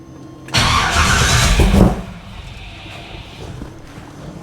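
A car engine with an Edelbrock 4150 carburetor cranks and catches abruptly, roaring loudly for over a second before settling into a quieter, slightly uneven idle, heard up close.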